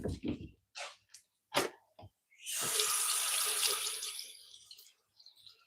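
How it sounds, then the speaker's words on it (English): A paintbrush is rinsed under a running tap, a steady hiss of water lasting about two seconds and then trailing off, with someone speaking briefly before and after. "let me rinse my brush a little bit real quick"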